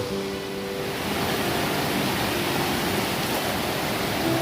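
A forest stream flows steadily nearby in the countryside, a constant broadband rush of water with no breaks or talk.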